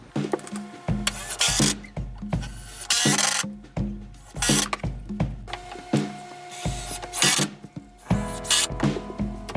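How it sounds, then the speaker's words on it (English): Someone is fastening a support piece on a 2x4 wooden workbench frame, with repeated bursts of whirring and grinding from a power driver broken up by short pauses and clatter, close and fairly loud. "then we'll screw it into place"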